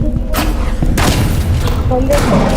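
A shotgun in the video game Roblox fires in sharp booming blasts, two heavy shots close together near the start and a dense rumble after, while a voice talks over them.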